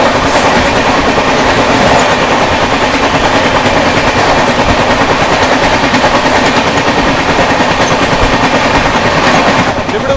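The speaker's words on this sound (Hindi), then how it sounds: "सामने से आती हुई डिब्रूगढ़ नई दिल्ली राजधानी।" The Dibrugarh–New Delhi Rajdhani Express approaches and passes near a station, a loud, steady rumble of wagons with rhythmic clickety-clack of wheels on rail joints, sustained throughout with no voices.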